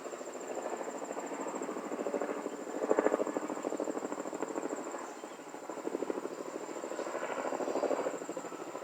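A helicopter's rotor thumps steadily overhead, its chopping growing louder and fading slightly in waves throughout.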